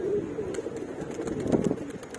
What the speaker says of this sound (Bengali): কবুতর এখনো ফ্লাইং করতেছে